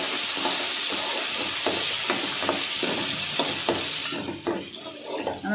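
Large onions sizzling in hot oil in a pan while being stirred for Tamil chicken kulambu: a continuous frying hiss with regular scraping stir strokes, close and loud, easing toward the end.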